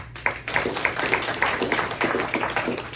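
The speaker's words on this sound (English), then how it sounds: "Let's give him a round of applause as well." A small audience at a sports press luncheon applauds: sparse, fairly quiet clapping with a few individual claps standing out in a loose rhythm, continuing steadily for a few seconds.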